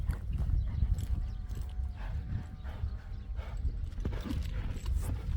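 Horse hooves clip-clop steadily and fairly near through a dense low rumble of outdoor noise, with no talk over them.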